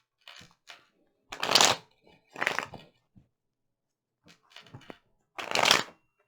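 A tarot deck is shuffled several times in quick riffling bursts, close and crisp, with short pauses between shuffles.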